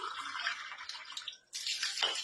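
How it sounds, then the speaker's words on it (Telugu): Water pours steadily into a cup for about a second and a half, breaks off briefly, then resumes with a brighter splashing stream; close and fairly quiet, with no talk. "సో ఇప్పుడు మనం ఫస్ట్ వాటర్ అనేది నింపుదాము"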